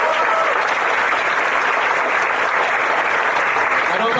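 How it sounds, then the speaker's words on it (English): Audience applause fills a room of people, a steady dense wash of many hands clapping close and loud, unbroken for the whole stretch with no voices above it. "Shall we give all these people a warm applause?"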